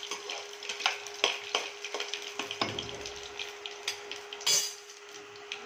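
Garlic and panch phoron spices frying in mustard oil, a busy crackling sizzle punctuated by frequent clicking taps and scrapes of a utensil against the pan, with a steady tone humming underneath.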